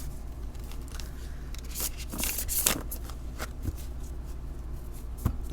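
Playing cards being riffle shuffled, with a few quick bursts of riffling flutter and small handling clicks, close and clear with no talk.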